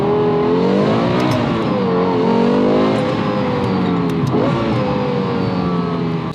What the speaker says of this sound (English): The sound is incredible. That V10 Yamaha, obviously we've talked about, tuned the exhaust